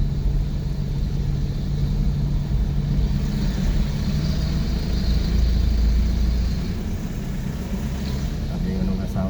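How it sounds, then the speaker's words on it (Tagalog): A car engine laboring as it climbs a steep, dangerous mountain road in Itogon, Benguet, heard from inside: a continuous low drone and rumble with a slight shift in pitch partway through, and no clear speech over it. "Tignan mo ang takas ng tunog ng makina."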